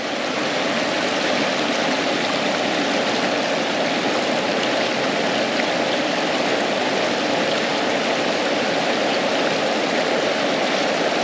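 Fast-flowing stream water at a fishing spot rushes steadily and loudly for the whole stretch, a dense, even roar with no voices.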